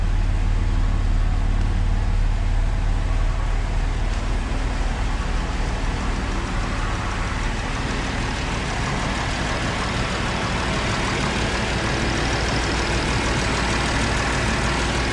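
A Jaguar XJ6C in good condition with a new exhaust and no leaks idles steadily, a loud, constant low engine drone with no talking over it.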